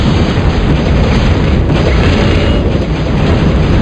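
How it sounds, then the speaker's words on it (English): In a strategy video game, units fire on a building, making a loud, dense, continuous barrage of booming gunfire and explosions with no talking. "Oh, they are actually shooting that building on their own."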